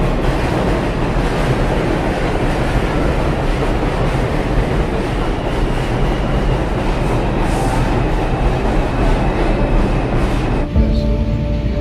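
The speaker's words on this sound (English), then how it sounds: "There is a local 4 train to Woodlawn. Approaching the station, please stand away from the platform edge." A New York subway local 4 train bound for Woodlawn arrives at a North Bronx station with a loud, close, continuous rumble and wheel clatter, then ends in a brief brake squeal.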